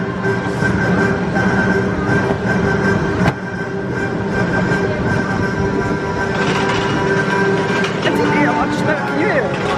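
A roller coaster train at Pleasure Beach runs along its track, producing a loud, continuous rumbling clatter with occasional metallic squeals, close by and with no break.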